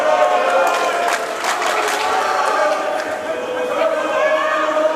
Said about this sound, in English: You can hear the crowd behind me trying to get behind Fordham.